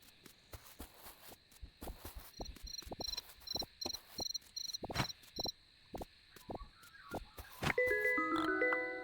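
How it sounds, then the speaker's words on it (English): A cricket chirps steadily in the video game Dinkum, giving a soft, regular pulsing trill over a background of rhythmic footsteps, with a brief chime near the end. "Oh, got a cricket."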